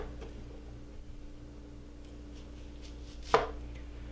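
A knife slices through an onion on a board, cutting it into thick half-inch rings, with one sharp, close chop standing out against quiet room hum.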